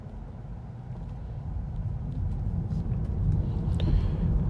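A Tesla car driving itself on FSD Supervised 12.3.6, with a steady low cabin rumble of road and tyre noise that slowly builds in loudness and runs throughout without talk.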